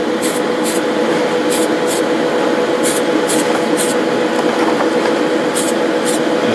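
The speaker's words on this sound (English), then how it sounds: "So I'm going to go ahead and put the first coat of this TS19 blue on here, and I will do a relatively light coat." Tamiya TS-19 blue spray paint is misted onto a part of a 1/14 Volvo FH16 model truck in several short, hissing bursts over a steady background hum, heard close up.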